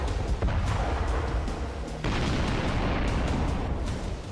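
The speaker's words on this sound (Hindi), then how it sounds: "गरजती तोपें, दनादन बरसता बारूदी गोला" Artillery cannons firing amid exploding shells on a battlefield, dense rumbling booms and bursts rolling one after another, a sharp new blast landing midway, loud and continuous throughout.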